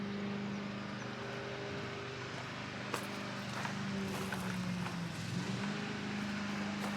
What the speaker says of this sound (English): my voice is loud enough to cover the sound of the lawnmower